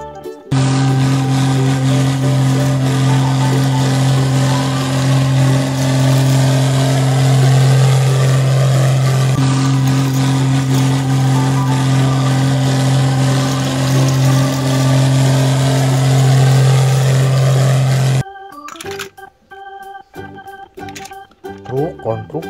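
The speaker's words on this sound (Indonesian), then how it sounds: "Traktor." A tractor engine runs with a loud, steady humming drone and rising and falling revs for about eighteen seconds, then cuts off abruptly, leaving brief scattered quieter sounds.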